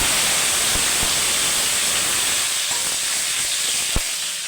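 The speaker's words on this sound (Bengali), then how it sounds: "এখানে আমি দিয়ে দেবো টমেটো কুচি।" Chopped tomatoes sizzle in a hot pan for a vegetarian chana paneer, giving a steady broad hiss with a few soft knocks near the end.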